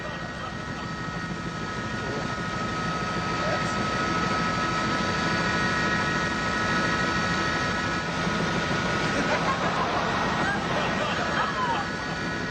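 Helicopter flying, with a steady rotor chop and engine drone holding at an even, fairly loud level throughout and no talk over it.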